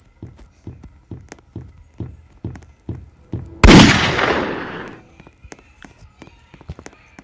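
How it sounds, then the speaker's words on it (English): A single loud gunshot blasts in the Piggy video game, cutting through a steady run of quick footstep thuds and decaying over about a second before the rhythmic steps carry on. "I just shot him."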